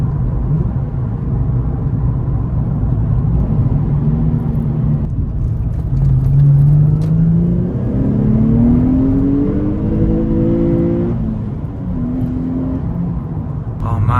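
Engine of a car revving through a series of manual downshifts, rising and falling pitch sweeps with a rev blip, loud and close over steady road rumble.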